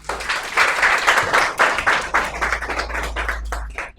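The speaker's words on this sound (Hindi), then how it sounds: "ठीक है। तालियां।" A short burst of clapping from a small group in a physics class, brisk and uneven, swelling then thinning out toward the end over a low hum.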